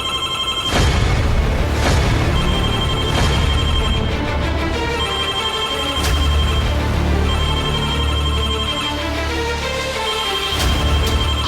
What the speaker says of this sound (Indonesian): HP-nya bunyi.